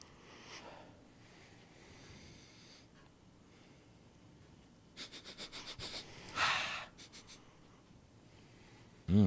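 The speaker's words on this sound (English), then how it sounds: "Give it some sniffs here." Someone sniffs a glass of Cigar City craft beer with orange peel and coriander aroma: a quiet stretch, then a quick series of short close nasal sniffs and one stronger inhale before a brief thump.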